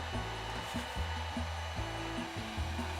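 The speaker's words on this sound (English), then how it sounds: "Using a heat gun, I give the armor some shaping while heat sealing the foam at the same time." A heat gun blows a steady, rushing hot-air roar while shaping and heat sealing foam armor for a Mandalorian suit, continuous and close with no talking.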